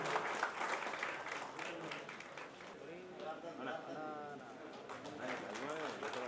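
Broad, steady applause from a crowd fills the whole stretch, with voices faintly mixed in under the clapping.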